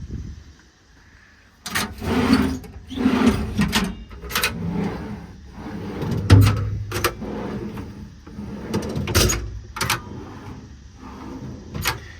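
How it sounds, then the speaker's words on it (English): Metal drawers on ball-bearing runners in a 2018 Ford F550 service truck slide open and shut several times, with rolling rumbles and sharp clunks as they stop. "These drawers slide super nicely. Ball bearings are in good shape."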